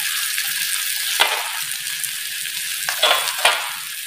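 Garlic sizzles in a hot pan with oil for an Arabic fish salona, a steady bright crackle with a few sharper spitting bursts as it is stirred.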